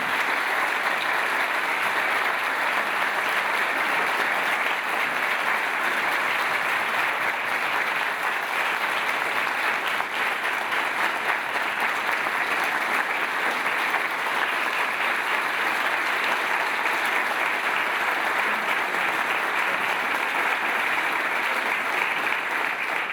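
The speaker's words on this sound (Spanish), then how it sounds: "ustedes también se merecen un aplauso en este momento y yo quiero invitarlos a que se den a todos." Sustained, loud applause from an audience at a book launch for 'Duque, su Presidencia', a continuous even roar of clapping filling the room.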